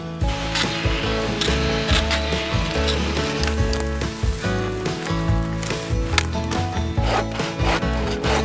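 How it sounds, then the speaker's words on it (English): Power tools cut through dense, spiky tojo shrubs while a native forest is being cleared, a loud, continuous grinding and rasping that stays close and steady throughout with no talking. "bring out the power tools and continue to free some of the native plants"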